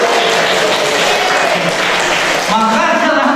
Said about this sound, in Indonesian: Tepuk tangan boleh kan?